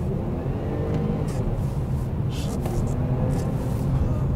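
A Jaguar XE car being driven on asphalt, a steady low engine rumble and road roar inside the cabin, continuous and moderately loud with faint intermittent sounds on top.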